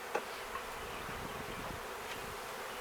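A dense, steady hum of many honeybees from a swarm buzzing close by, continuous and even throughout with no talking.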